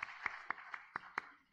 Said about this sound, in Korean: 하나님께 우리 영광의 박수와 찬양의 박수를 올려드립니다.